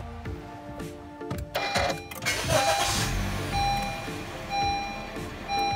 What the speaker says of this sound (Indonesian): kita matikan dulu, lalu kita starter ulang.